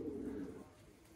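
Young homing pigeon giving a single low, soft coo close by, fading out within about a second against a quiet background.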